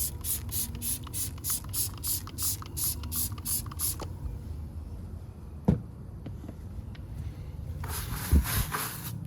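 Salty Captain grease attack cleaner sprayed onto an off-road truck's back tire, with a rapid series of sharp, close hissing trigger bursts in the first four seconds, then quieter handling and a light knock before another short spray burst near the end.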